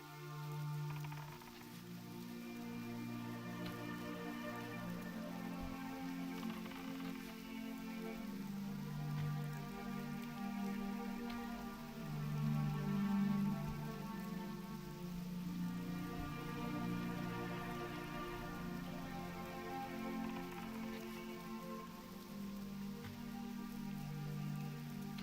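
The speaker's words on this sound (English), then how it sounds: "Is that rain I hear?" Steady rain falls within the world of the online game Turtle WoW, a soft continuous patter laid under a low, droning musical bed that runs the whole time at moderate level, with no voices.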